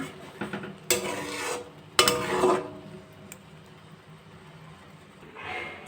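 Spoon stirring thickening milk in a pot for chhana payesh, with a couple of distinct scraping strokes against the metal, then quieter stirring and a faint soft swish at the end.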